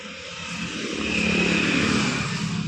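A Hero HF Deluxe BS6 motorcycle with a misfiring and pickup problem runs steadily nearby, its engine hum swelling slightly louder partway through, with no talk.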